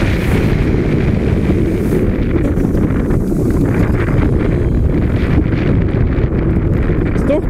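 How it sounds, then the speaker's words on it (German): Strong wind buffeting the microphone on the Baron 1898 roller coaster at Efteling, a continuous loud roar with rumbling gusts throughout, no clear talk over it. "Ist doch ganz schön windig."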